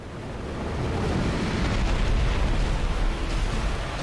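A dense, sustained roaring blast from the dragon Kalameet's attack in Dark Souls, loud and continuous for several seconds like a rushing eruption with no voices over it.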